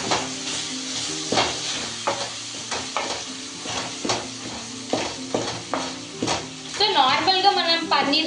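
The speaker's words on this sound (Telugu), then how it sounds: "ఆ ముక్కలు కొంచెం గడ్డతో తిప్పి నలగొట్టాలి" A ladle scrapes and mashes pieces of Guntur street-style Andhra egg fry in a hot pan, giving repeated short knocks and scrapes over a low sizzle, with a steady musical backing underneath.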